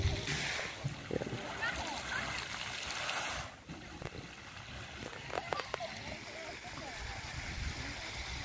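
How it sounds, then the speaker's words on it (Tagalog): Children splash and play in the water of a large fountain at Huis Ten Bosch in Japan, giving steady watery splashing with a few sharper splatters, heard under someone talking. "dito sa may fountain na to na malaki is may mga batang naliligo"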